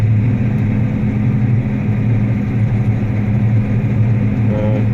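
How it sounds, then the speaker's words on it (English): A combine harvester engine revving up in gear while harvesting on an autumn day, a loud steady diesel drone with a constant low hum that holds throughout, close up inside the cab. "Let's increase the revs."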